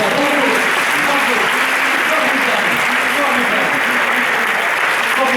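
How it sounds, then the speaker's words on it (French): A studio audience at a French variety show applauds warmly, a loud, continuous wash of clapping with a few cheers that fills the whole stretch. "ce qu'on va faire, c'est qu'on va l'applaudir, ça la fait arrêter en général"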